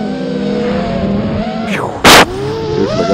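A fast 6S racing drone flies nearby, its motors whining and sweeping in pitch, with a sudden very loud, brief burst as it accelerates past before settling back to a steady hum.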